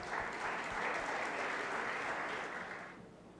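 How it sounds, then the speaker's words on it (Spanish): An audience at an ecological forum gives warm, continuous applause, a dense patter of many hands that holds steady before fading away over the last half-second. "Un fuerte aplauso para ellos."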